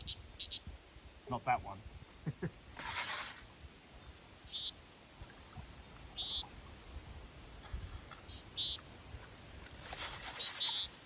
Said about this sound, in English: Lots of different sounding frogs too.